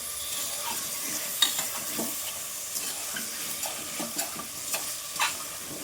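Potatoes and peas frying over medium heat for aloo matar bhaji, with a steady gentle sizzle broken by repeated spatula scrapes and taps at a loose rhythm, close and unaccompanied by speech.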